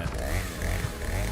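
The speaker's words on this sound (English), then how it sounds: "Chainsaw." A chainsaw in the horror video game Outlast Whistleblower drones with a steady, buzzing engine whine over a low rumble, held continuously without a break.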